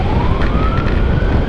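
Ambulance siren during an emergency road transfer of a COVID-19 patient from Tasikmalaya toward Bandung, a steady rising wail heard loud and close over continuous road and engine rumble, with no talking.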